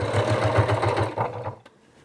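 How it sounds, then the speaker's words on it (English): A sewing machine stitches a hook loop for a Christmas stocking, its needle thumping in a quick, even rhythm up close before stopping abruptly, followed by a faint click. "now we're going to go ahead and sew the other version of our hook loop"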